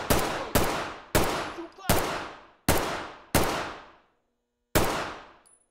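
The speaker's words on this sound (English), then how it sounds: "Throw a couple more shots in." Seven loud MPX submachine gun shots in Ready or Not, fired one at a time in an uneven rhythm, each sharp crack ringing out with a decaying tail, with a longer pause before the last shot.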